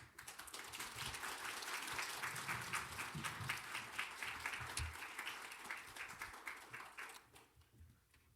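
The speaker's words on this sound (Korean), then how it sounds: "목사님 나오실 때 우리 박수로 환영하겠습니다" Congregation in a church service applauding as the pastor comes forward, steady dense clapping filling the room for about seven seconds before fading out near the end.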